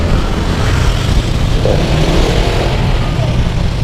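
Dense street traffic near a school, with cars and motorcycles passing and engines revving close by, forming a continuous loud mix of motor noise and road hiss.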